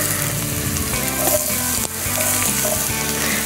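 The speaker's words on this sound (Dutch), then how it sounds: "Dus ik vind zelf altijd wel heel lekker om die courgette even goed op te bakken." Diced courgette frying in a hot pan, browning for a Greek chicken wrap; a steady, loud sizzle fills the whole stretch with a brief dip near the middle, and no one speaks.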